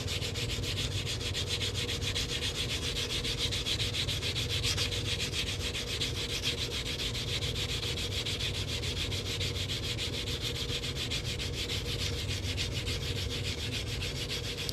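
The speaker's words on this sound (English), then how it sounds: "If I don't sand it down when we start stretching it, it could split" Steady, continuous abrasive rubbing as a 1964 silver Kennedy half dollar being made into a ring is sanded down, close and even throughout with no pauses.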